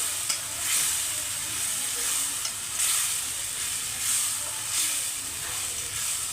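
Chicken gravy with blended tomatoes sizzling in a pan as it is stirred, a close, steady frying hiss that swells with repeated rhythmic scraping strokes about once a second.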